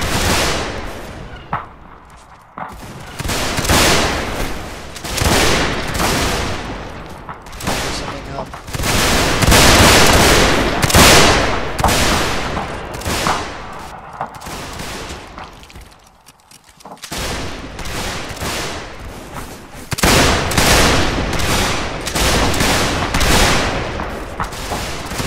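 Constant musket gunfire in a Mount and Blade Warband commander battle: ragged volleys and crackling rifle shots repeating in loud waves over about 25 seconds, with brief lulls between bursts.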